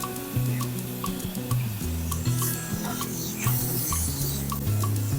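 Finely chopped medium tomato goes into softened onions in a pan for a mixed-dal amti, giving a steady close sizzle with scraping stirring strokes over a low, sustained tonal background, with no talking.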